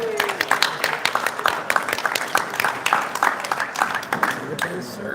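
An audience at a state fair homebrew awards ceremony applauds, sharp individual claps standing out in an uneven, lively rhythm, with a voice audible briefly beneath the clapping.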